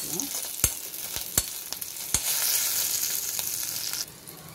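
Ginger and other ingredients sautéing in hot oil in a pan for mint pickle, a steady close sizzle with a few sharp spoon clicks early on, dropping quieter near the end.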